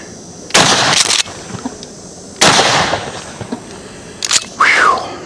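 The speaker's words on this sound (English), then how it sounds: "let's throw some number 4 buck at that right-hand target" Mossberg M590A1 12-gauge shotgun firing two rounds of number 4 buckshot outdoors at a target: two loud, sharp blasts about two seconds apart, each with a short echoing tail, followed by fainter sounds and a brief voice.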